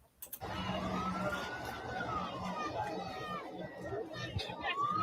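A siren wails faintly in the distance in Guyana, rising and falling beneath a busy background of chatter and street noise.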